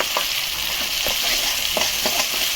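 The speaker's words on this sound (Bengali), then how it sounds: "দিয়ে দিচ্ছি বেটে রাখা পেঁয়াজ পেঁয়াজটা আগে আমি ভেজে নিয়েছি তারপরে বেটেছি তো এটা ভাজতে বেশি সময় লাগবে না" Ground, pre-fried onion paste sizzles steadily in a hot pan for Bengali matar paneer, while spatula strokes scrape through it in short, repeated bursts over a constant frying hiss.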